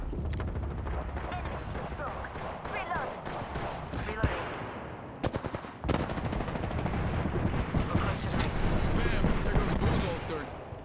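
Rapid gunfire bursts crack and boom in an Apex Legends match, with repeated close volleys, short pauses and reload clicks, while a voice talks over parts of the action.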